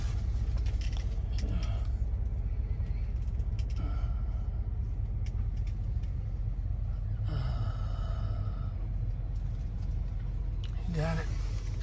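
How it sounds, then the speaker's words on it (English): A Freightliner truck hauling an oversized load backs up, producing a low, continuous engine rumble with occasional creaks and mechanical clunks, and muffled voices talk over it. "Slow down, Freightliner. Slow down, he backing up."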